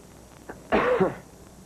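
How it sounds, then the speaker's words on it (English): A single rough cough, close by, preceded by a faint short breath, then quiet room tone. "Cough, please."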